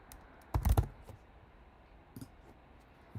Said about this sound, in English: I slam at that keyboard.